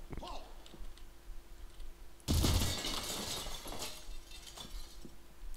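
Glass shatters in the Red Faction video game, a sudden loud crash partway through followed by a spray of tinkling fragments and scattered clicks, with a quieter game backdrop before and after.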